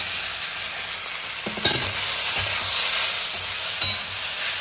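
Boiled pasta being stirred and lightly fried in a pan, a steady sizzle with scraping stir strokes and a few clacks of the utensil against the pan, close and alone.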